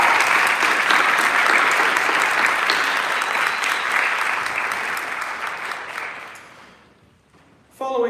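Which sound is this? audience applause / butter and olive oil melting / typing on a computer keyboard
audience applause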